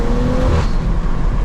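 A BMW M240i accelerates hard, heard from the driver's seat: a loud, steady engine roar with a dense whir of road and tyre noise and no voices.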